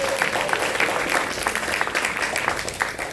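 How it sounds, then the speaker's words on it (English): An evening event audience applauds for a person being thanked, a dense and fairly loud burst of many hands clapping that continues through the whole short stretch. "So let's give Julia a special round of applause."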